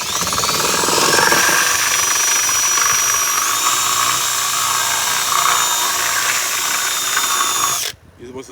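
A power drill whines continuously at close range as it bores a hole for a boost gauge in a V8 Chevy S10, the pitch shifting slightly midway before the drill cuts off abruptly.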